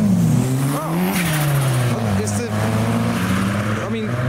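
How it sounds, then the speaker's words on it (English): A car rolls into a wet car meet. Its steady engine drone sits close and loud, with a shift in pitch as it moves, and a voice speaks faintly in the background. "And whilst Joe's Whippy negotiates the SV, he's pulling into the supercar."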